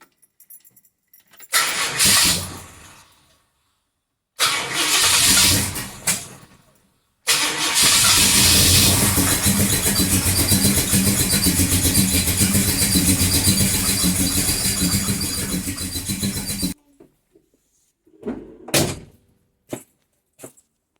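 A Ford Falcon 351 Cleveland V8 engine with slightly retarded ignition timing cranks and stutters a couple of times, then catches and runs unevenly for several seconds before cutting out, with a few clunks afterward.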